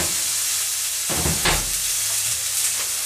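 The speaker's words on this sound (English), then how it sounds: "So now, we put the onion in the pan. We're gonna mix it up a little bit." Onion sizzles in a frying pan with a steady loud hiss, and a spoon scrapes and stirs through it in a couple of brief bursts near the middle.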